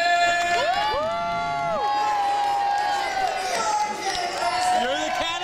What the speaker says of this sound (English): Green crew, stand and cheer for your cannon master!